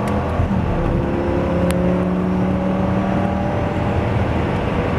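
Lamborghini Gallardo accelerating on a race track, its engine a loud, sustained drone with gliding pitch lines as revs climb, heard close and steady without voices.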